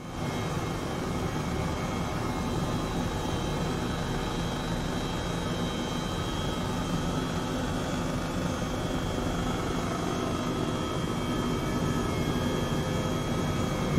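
A helicopter in Microsoft Flight Simulator 2020, on a flight over Iceland toward the Fagradalsfjall volcano, hums with a steady, loud engine and rotor drone that holds continuous and even throughout.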